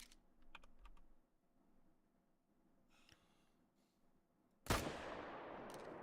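A single loud rifle shot fired at a deer in a whitetail and fallow deer hunting video game cracks out near the end, ringing and decaying, after quiet keyboard clicks and near-silence.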